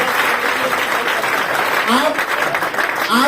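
Steady audience clapping at a business seminar, a full continuous patter with a voice speaking over it toward the end.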